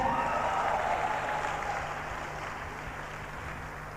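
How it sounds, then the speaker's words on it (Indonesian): A gathering applauds Mr. Luis Tendean, a steady, even roar of many clapping hands that eases slightly toward the end. "Tepuk tangan buat Bapak Luis Tendean."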